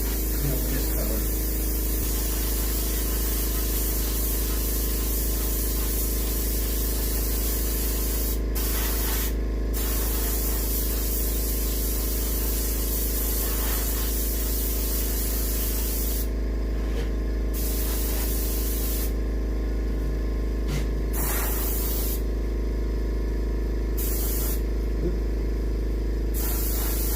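An airbrush or spray gun mists paint onto a muskie fish mount, producing a loud, continuous hiss that runs nearly unbroken for the whole stretch, with only a few brief dips.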